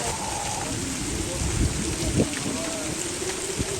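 Heavy rain pours steadily in a summer storm, a dense, continuous hiss close to the listener, with a few low rumbles and faint voices in the background.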